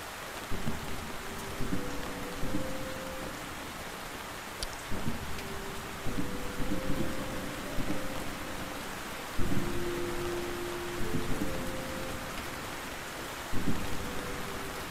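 Steady rain hisses throughout, with low rumbles of thunder, while sustained musical tones rise and fall over the downpour at a moderate, even level.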